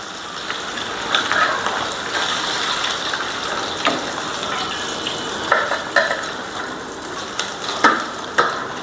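Hilsa fish fry in a pan, giving a steady, close sizzle throughout with occasional sharp scrapes of a spatula turning the pieces.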